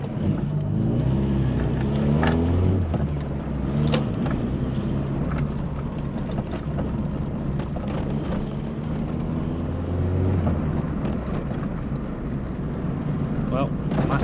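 A VW Polo Coupe is driven on a test run after an engine rebuild, its engine drone and road rumble heard steadily from inside the cabin, with a brief rise in revs and some wind noise.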